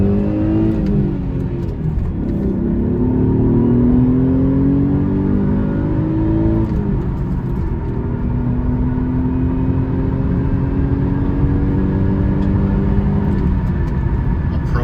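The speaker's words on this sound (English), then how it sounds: "We'll try to get up to highway speeds." A 1993 Ford Probe GT accelerating toward highway speed, its engine note rising steadily through the gears with a brief dip at a shift, loud and continuous road and engine rumble heard from inside the car.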